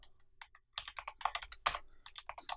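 Typing on a computer keyboard at a terminal, with quick clusters of crisp key clicks in uneven bursts, then a rapid run of presses, close and fairly quiet, with no speech.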